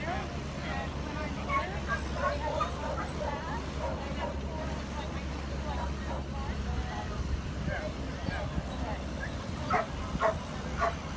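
Rescued dogs bark and yip as animals are unloaded from a plane in Fort Pierce, Florida, with repeated barks at moderate distance over a low engine hum and the murmur of people talking.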